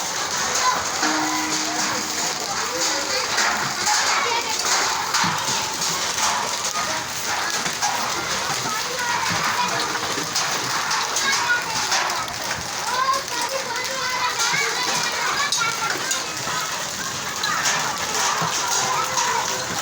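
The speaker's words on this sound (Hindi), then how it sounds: "बहुत तूफ़ानी बारिश है और बर्फ़ानी ओले भी गिर रहे हैं।" Heavy stormy rain with hail pours down steadily and loudly for the whole stretch, a dense hiss and clatter with faint voices in the background.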